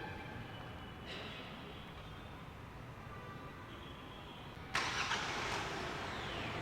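A Kia Carens Clavis HTX with a manual gearbox starts its engine by remote start from the smart key. A low, quiet idle rumble runs throughout, then the engine catches with an abrupt, louder surge near the end.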